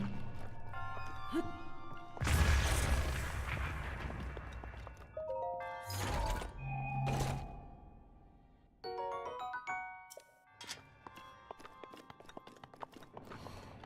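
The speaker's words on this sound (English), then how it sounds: "Just blow up the wall, go up the stairs, and get on the platform." A wall blasted apart in Zelda: Breath of the Wild, with two loud, rumbling explosion bursts and crashing debris over tonal game music, then quieter chimes and effects.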